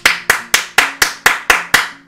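Applause comes as eight crisp, evenly spaced claps in a quick, mechanical rhythm, each loud and close with a brief decay.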